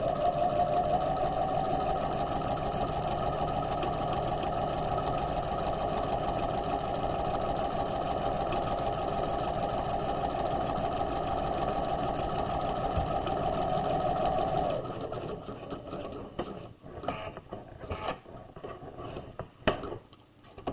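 A sewing machine runs continuously while stitching the lining of a tote bag, a loud, steady motor whir that stops after about fifteen seconds, followed by scattered clicks and handling sounds.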